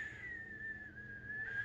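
A voice imitates the steady whistling of fans, a sustained high tone holding fairly level and faint over a low murmur, alone without talk.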